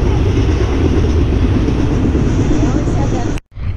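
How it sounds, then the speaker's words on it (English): A passing train gives a loud, steady, close roar and rumble that fills the whole stretch, with a brief cut-out just before the end. "here's another train"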